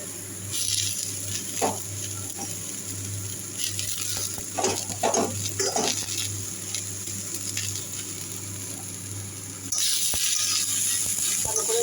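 Red amaranth leaves going into an oiled pan of fried eggplant and potato for a Bengali vegetarian dish, with a soft continuous sizzle, scattered stirring clatters, and the frying growing louder toward the end; no voices.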